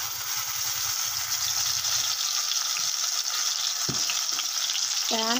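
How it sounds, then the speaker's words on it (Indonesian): Ground spice paste frying in hot cooking oil for sambal goreng, a continuous close sizzle with stirring, steady throughout with a brief scrape near the end. "Baru kita masukkan bumbu yang sudah kita haluskan ya."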